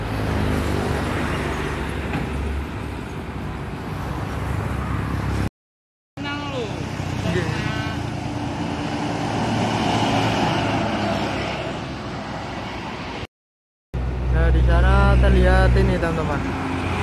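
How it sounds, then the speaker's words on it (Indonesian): A PO Haryanto intercity bus rumbles past on a roadside amid ongoing traffic noise, its engine swelling and fading, with someone talking over it. "Belakangnya ada bis PO Haryanto lagi."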